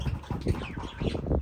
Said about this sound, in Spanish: Pájaros, perico.